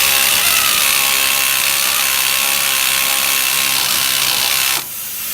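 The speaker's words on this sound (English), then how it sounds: "Now take the sway bar linkage off with your absolutely ridiculously noisy airline air ratchet." A pneumatic air ratchet rattles and whines loudly and continuously as it spins off a sway bar linkage on a muscle car suspension, running for nearly five seconds before stopping abruptly.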